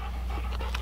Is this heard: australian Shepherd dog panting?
yes